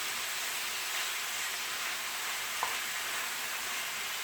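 Beef stroganoff sizzles steadily in a pan as it is stirred, a close, even frying hiss with one brief soft knock partway through.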